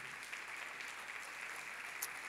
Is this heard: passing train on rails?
no